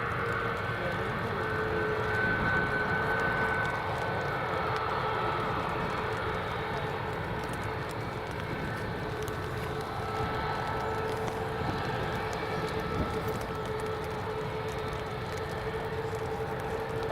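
An EasyJet Airbus A320neo jet taking off at Edinburgh Airport, a steady, moderately distant engine roar holding evenly throughout, with no talk over it.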